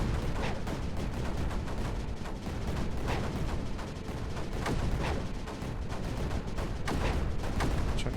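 Mortars fire continuously in the game Creeper World 4. A dense, loud stream of overlapping thuds and bursts carries on without a break, with no talking.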